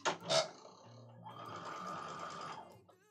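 A sewing machine running at reduced speed, a steady mechanical whir for about a second and a half after a couple of short rustling bumps at the start.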